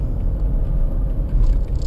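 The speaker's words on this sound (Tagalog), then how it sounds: "So suddenly kailangan ko mag-downshift sa second gear, walang rev match" A car's engine and drivetrain rumbling loud and close during a downshift from third to second gear without rev matching, a steady, heavy low roar with slight surges and no talking.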